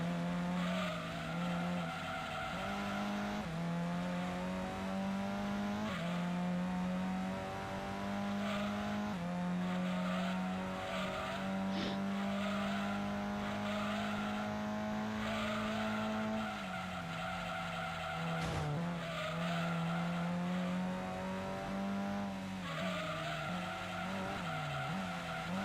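Race cars in the Gran Turismo 2 video game drone and whine through the gears with long tire squeals and skids, a steady engine tone rising and dropping over a continuous game mix, with no talk.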